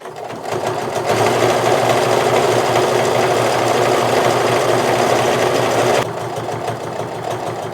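A sewing machine stitches a seam on a sweater pillow cover, running steadily and close for about five seconds with a quieter motor hum before and after.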